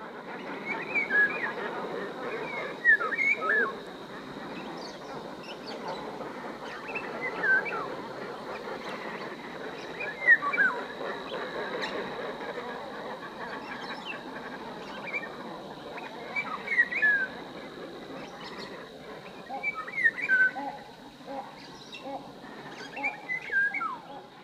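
A yellow bird singing outdoors, a sustained melodious song of repeated whistled chirps and trills over a faint steady background, with no talking.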